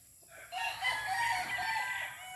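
Rooster crowing among sweater-breed chickens in a small farm coop, a single drawn-out crow rising after a quiet start and holding steady to the end, fairly close with no talk.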